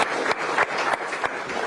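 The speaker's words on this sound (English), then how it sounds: "Round of applause for them." Brief applause for a book's two co-authors at an event, a short burst of crowd clapping lasting under two seconds, moderately loud with no speech over it.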